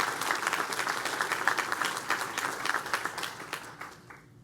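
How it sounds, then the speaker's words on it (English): A crowd at a DeKalb County ceremony introducing a new police chief applauds a chief deputy from the DeKalb Sheriff Department. The clapping is steady and full for about four seconds, then fades out quickly at the end. "Let's give her a round of applause."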